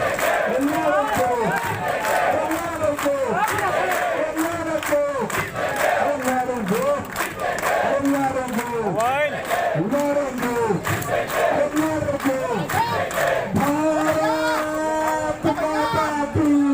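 A large protest crowd at the wrestlers' protest at Jantar Mantar chants slogans in loud, rhythmic call-and-response bursts, massed voices rising and falling continuously and close by throughout.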